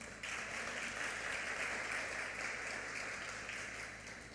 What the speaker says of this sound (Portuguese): Dá uma salva de palmas a Deus